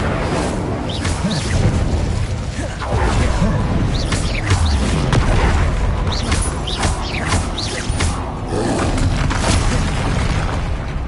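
Bombarda and Confringo spells detonate in the Hogwarts Legacy video game, a dense run of loud booms, crashes and bursting blasts that keeps going for the full stretch with barely a pause.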